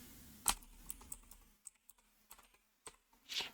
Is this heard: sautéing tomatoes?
no